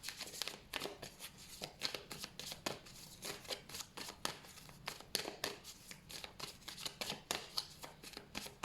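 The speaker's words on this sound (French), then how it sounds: "on va couper le jeu, c'est assez mélangé" A deck of cards is shuffled over and over in quick riffles and bursts, each one a crisp flutter of snapping cards. The sound is close but quiet, with little else beneath it.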